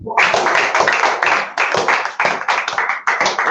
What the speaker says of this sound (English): With a clap for Lucky.